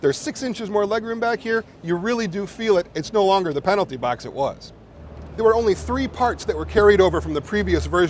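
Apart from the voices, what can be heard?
No distinct noise like a dog, phone or traffic.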